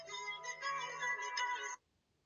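A short electronic phone ringtone plays a bright melodic pattern for under two seconds, then cuts off abruptly into quiet.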